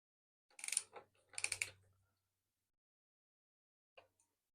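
Two short bursts of ratcheting clicks from a socket wrench with a 9/16 socket loosening a nut on a Harley Twincam 88 primary chain adjuster, then a single faint click after a pause, close and quiet.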